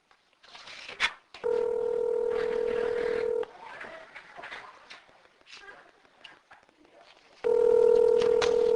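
A telephone call is placed for a recorded police phone interview: a burst of keypad dialing, then long steady ringback tones that stop, with faint line noise and brief voice fragments in between, and another loud ring tone at the end.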